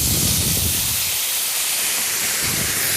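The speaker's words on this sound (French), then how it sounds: "Et on va déglacer au porto." A pan deglazed with port wine during a tournedos Rossini preparation gives a loud, steady hiss and steam rush throughout, with a strong burst of sizzle at the start.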